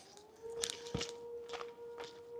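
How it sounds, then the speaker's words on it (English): A faint, steady siren wails in the far distance from a fire somewhere beyond a mountain trail by a solar field, with soft footsteps crunching nearby. "Ooh, there's a siren."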